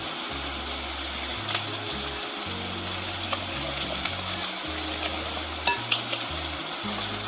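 About eight ounces of green chilies sizzle and fry steadily in a pan, a constant crackling hiss with light stirring, alone without talk.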